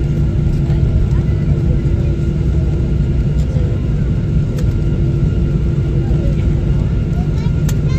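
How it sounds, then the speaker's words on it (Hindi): Steady, loud broadband roar of an airliner taxiing toward the terminal after landing at Dubai International Airport, heard from inside the cabin, with a constant low rumble and hum throughout. "जहाज़ की बहुत पुरसकून लैंडिंग के बाद अब हम टैक्सी करने लगे और अब अपने टर्मिनल की तरफ रवाना हुए"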